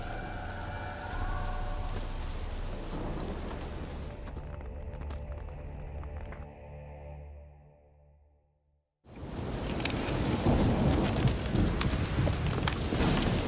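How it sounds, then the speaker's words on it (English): Rain and thunder in the video game The Witcher 3: Wild Hunt, Heart of Stone expansion, with a steady wash of rain that fades into a quiet, tonal lull before a loud, dense downpour returns and carries on. "Looks like rain."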